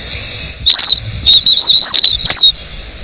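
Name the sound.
whistle imitating an injured animal to lure badgers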